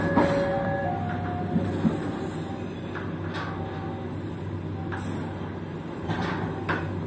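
An Argo Cheribon train rolls into Cirebon station with a steady low rumble, light squeals and occasional clunks and rattles from the carriage, a faint tone sounding near the start.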